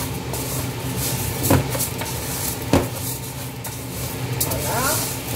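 Beans with oil and salt are stirred in a hot pot, with a steady scraping and a clink or two of a utensil against metal beneath a sizzling hiss as a person talks.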